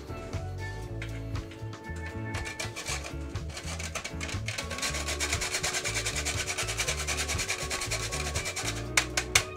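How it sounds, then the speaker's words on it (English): Whole nutmeg is grated by hand while making mammee apple jam in a home kitchen in Paramin, Trinidad and Tobago, giving a steady, close, rhythmic scraping and rasping that keeps going throughout with no talk. "Grate some nutmeg."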